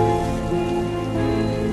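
Steady rain falling in a cartoon forest at night, a dense continuous patter under a constant droning tone, loud and unbroken with no speech.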